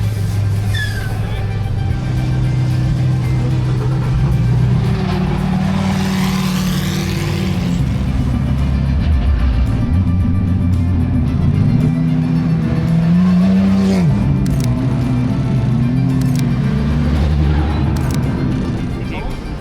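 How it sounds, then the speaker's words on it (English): Race car engines roar and rev continuously, loud and close, with a rising whine as cars pull away on the recon lap at the Daytona 24 Hours, a crowd murmuring underneath. "we are about to send cars out on the recon lap."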